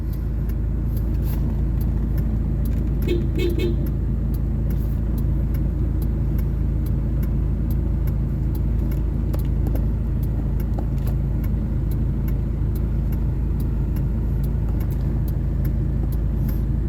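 A car drives slowly through a residential subdivision at Liora Homes in Naic, Cavite, its engine a loud, steady close rumble throughout with no talking.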